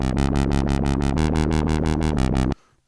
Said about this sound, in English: right now, all we're going to get is a straight triplet warble when we play this back